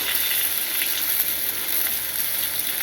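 Fish frying in oil with curry leaves and slit green chillies gives a continuous, close, even sizzle with a crackling hiss and no talk over it.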